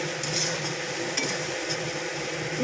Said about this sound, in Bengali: মশলাটা ভালোভাবে নাড়াচাড়া করে কষিয়ে নেব